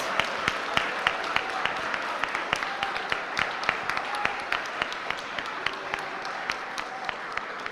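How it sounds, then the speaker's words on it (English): Applause from an audience at a flagship event after a questioning round, steady moderately thin clapping with sharp individual hand strikes standing out, lasting several seconds. "Huge round of applause."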